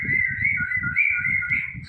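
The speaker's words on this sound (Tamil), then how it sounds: "நான் வந்துட்டு விசில் அடிச்சு தான் கொடுக்குறேன்." A person whistles a steady, sustained tone to call a pet cockatiel at feeding time, continuous and close, with soft rhythmic fluttering or rustling underneath.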